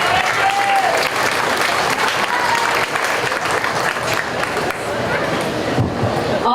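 Sustained applause from a crowd at a county fair lamb show, honoring red ribbon winners; dense, steady clapping fills the whole stretch at close range, with a faint murmur of voices underneath.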